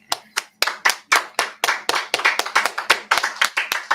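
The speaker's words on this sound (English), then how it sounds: "clap it up" A group claps their hands at a gathering, starting with slow, sharp separate claps that quicken into a faster, denser rhythm, close and fairly loud.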